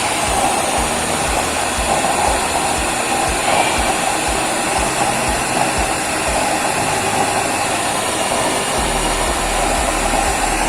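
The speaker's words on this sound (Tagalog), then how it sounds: "Yan ang performance kapag ka nakatodo ang ating setting ng blower." A blower running at its maximum setting makes a loud, steady, unbroken roar of rushing air that holds at the same level from start to finish, with no talking.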